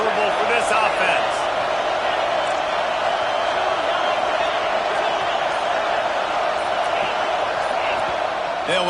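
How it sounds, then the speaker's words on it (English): A packed stadium crowd roars at a college football game at Autzen Stadium with Oregon facing Texas: a dense, sustained wall of loud noise, near and constant throughout. "This crowd trying to make life miserable for this offense."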